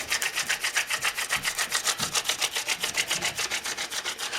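A drill bit grinding into a walnut wood handle, a steady fast rhythmic rasping scrape that pulses evenly throughout, close and moderately quiet with no voices.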